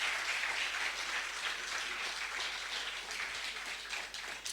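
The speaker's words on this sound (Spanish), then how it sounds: "Dale un fuerte aplauso al Señor." A church congregation breaks into dense, sustained applause in praise during a Spanish-language sermon. The sound is a thick, even wash of many hands that softens slightly near the end, with no voices over it.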